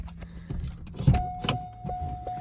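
A 1993 Oldsmobile Cutlass Cruiser wagon is switched off, its idle cutting out amid a few clunks and clicks from the cabin, followed by a faint lingering electronic hum.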